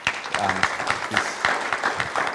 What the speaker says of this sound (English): Let's give them a little round of applause for doing that.